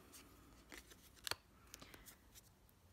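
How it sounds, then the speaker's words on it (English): A few quiet snips of scissors cutting embroidery floss, one sharper click in the middle, then soft scattered snips. "My scissors."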